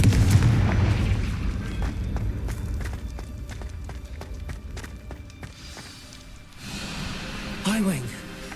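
Hogwarts Legacy's Confringo blasting spell erupts in a booming fiery explosion, with heavy rumbling blasts and game effects continuing over several seconds, and a voice cries out near the end.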